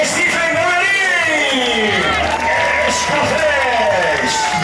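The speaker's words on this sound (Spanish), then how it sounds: "Ese fuerte aplauso para él." Crowd applause and cheering greet a runner crossing the finish line at a 2015 race in Viloria, carrying on steadily beneath a loud announcer's voice throughout.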